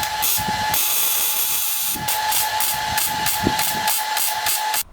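Welding repairs on cracks in a Datsun 620 truck tailgate give a steady, dense crackling hiss with a couple of brief breaks. The sound is close and fairly loud, and no one speaks.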